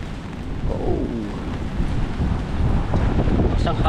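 Strong storm wind buffets the microphone in a steady low roar at a coastal spot in Bucana during heavy rain, with rough surf and rising waves rumbling beneath.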